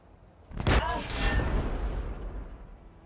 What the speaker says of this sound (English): Aim very carefully with our demolisher cannon.